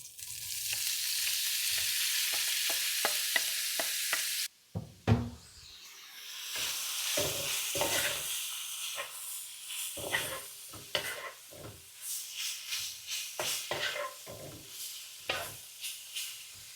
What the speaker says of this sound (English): And then stir fry this tofu.